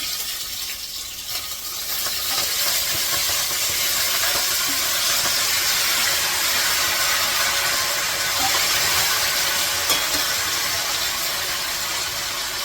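Fenugreek greens and red amaranth hit hot oil in a village-style home kitchen, a steady, close sizzle and hiss that swells after the first couple of seconds and holds fairly level.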